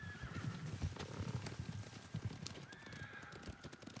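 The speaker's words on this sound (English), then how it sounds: "Horses, they're coming for us." Faint hooves pound rapidly beneath a horse's whinny in the video game Ghost of Tsushima, with a second neigh later, distant and low in level.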